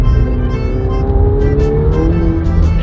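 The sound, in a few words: McLaren 720S accelerating hard under full throttle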